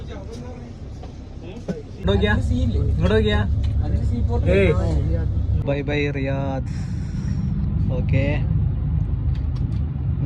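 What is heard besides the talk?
bus departing, engine running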